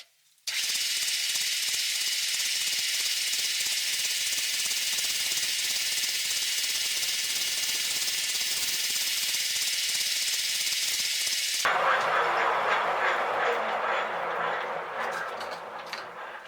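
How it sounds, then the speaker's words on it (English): A lathe cuts a taper inside and outside a metal belt sander part, giving a loud, steady high-pitched cutting hiss that runs without a break and then changes to a rougher, lower grind near the end. "Now I make the taper both inside here and outside, and I'm gonna cut it off 33 millimeters from this edge here."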